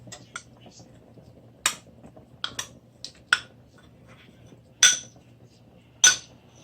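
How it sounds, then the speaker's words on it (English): A spoon clinks against a pot as melted coconut cream is stirred into hominy corn, several sharp metallic taps and scrapes at irregular intervals, close by, with faint background hum. "And stir. Want to stir it all out."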